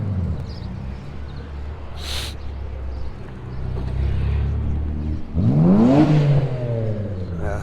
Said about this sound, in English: Show me how cool his car sounds.